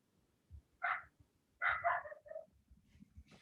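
A puppy barking in short high yips, one single bark and then a quick cluster of three or four, close and fairly quiet in a calm room.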